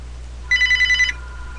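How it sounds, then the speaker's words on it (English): Telephone ringing with an incoming call, a single short burst of rapid trilling electronic rings over a steady low hum in a quiet room. "So that's a phone call I'm not interested in."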